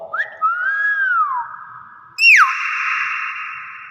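A myna bird gives two clear whistles, each a high gliding note that rises and falls. The first is longer and the second starts sharply, close and fairly loud against near silence.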